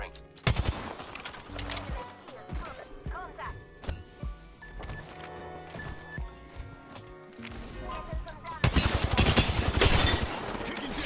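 Gunfire in the battle royale shooter Apex Legends during a ranked arenas match, with bursts of automatic shots scattered through the clip and a dense, loud volley near the end, mixed with game effects while players talk over it.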